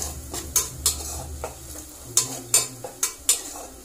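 Spices, including cloves, being stirred in a frying pan for chicken curry: a utensil scrapes and clinks against the pan in uneven strokes over a low sizzle, close and clear.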